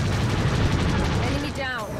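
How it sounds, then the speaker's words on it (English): Dense gunfire in a video game, with loud overlapping bursts of shots and booms that fade slightly toward the end, mixed with radio-style voices. "We're taking fire."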